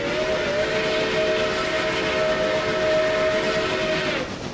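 Steam locomotive sounding a long, steady whistle as it passes close by, with hissing steam and rumble underneath, the tone held for about four seconds before cutting off.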